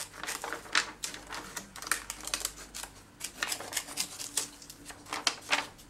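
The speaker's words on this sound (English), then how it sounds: "I'm going to cut that stalk off because I don't very often use stalks." Scissors snip through heat-embossed acetate foliage in quick, faint, irregular clicks and crisp cuts, heard close and alone.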